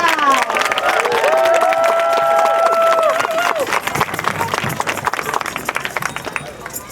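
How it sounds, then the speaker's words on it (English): Applause and cheering from a crowd at an outdoor rally calling for a ceasefire, loud and steady for about four seconds, then thinning to scattered clapping and chatter, with a voice over the top. "a big round of applause"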